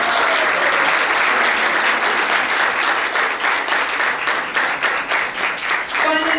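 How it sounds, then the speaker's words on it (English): A crowd at a school district social studies bee gives a sustained, loud round of applause that holds steady throughout. A voice begins to speak as the clapping tapers off at the end. "one more round of applause for our individuals"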